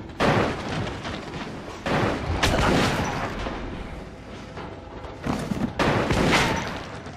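A shotgun fires in the video game Metro Last Light: about five heavy, booming blasts, each leaving a rumbling tail, spaced unevenly and loud in the foreground, with no talking.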